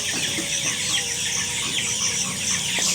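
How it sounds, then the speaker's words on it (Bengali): Chickens on a poultry farm cluck and chatter in a dense, continuous flock murmur close by, with overlapping calls throughout. "এই যে মুরগিগুলো"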